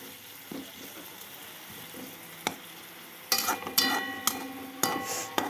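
Ingredients frying in a pan on low heat, a soft steady sizzle with a few scraping stirs and clinks growing louder toward the end.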